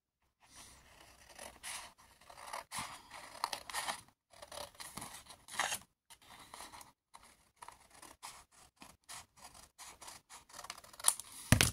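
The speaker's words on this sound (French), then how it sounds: "On prend une paire de ciseaux" Scissors cutting scrapbooking paper: repeated close snips and crisp slicing strokes in irregular bursts with brief pauses, quiet and alone with no talk.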